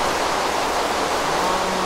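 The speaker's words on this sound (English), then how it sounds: "It's just started to rain" Rain falling in the Minecraft video game, a steady dense hiss of downpour, even and continuous at moderate volume with no voices.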